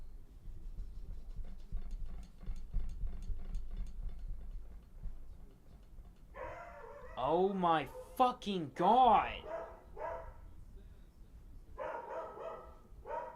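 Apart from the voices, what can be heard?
dogs barking outside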